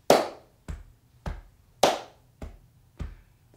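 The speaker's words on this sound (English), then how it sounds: "The claps and pats create a pattern that can be repeated" Claps and pats on the body marking a repeating three-plus-five rhythm pattern, six crisp close hits at a steady pace, the louder claps alternating with softer pats, with no voices.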